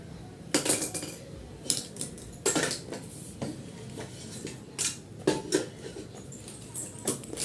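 Chapati dough being rolled out with a rolling pin, giving a series of clattering, knocking taps as the pin strikes the board, irregular bursts close by with quiet gaps between.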